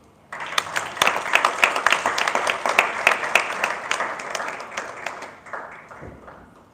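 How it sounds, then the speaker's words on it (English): An audience at a family business conference breaks into loud, dense applause that starts abruptly, holds steady for several seconds, then tapers off. "Ladies and gentlemen, another round of applause"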